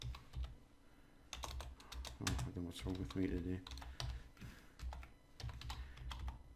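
Rapid clattering keystrokes on a computer keyboard in quick bursts, close and fairly loud, with a person talking over and between the typing.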